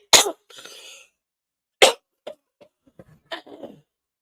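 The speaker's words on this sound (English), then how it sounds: "I'm so sorry to be coughing in y'all ear." Several sharp, close coughs with short gaps, followed by softer throat sounds and small clicks.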